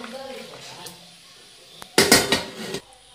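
Boiled potatoes are lifted out of a cooking pot in a home kitchen, with a burst of metallic clanks and scraping of utensil against the pot near the end, after softer background sounds. Someone speaks during the clip.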